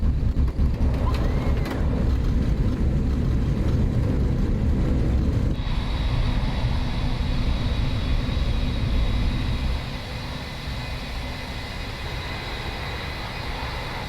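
Airliner rolling out after landing in the X-Plane 11 flight simulator, a steady loud engine and runway rumble that eases and quietens partway through, with no talk over it.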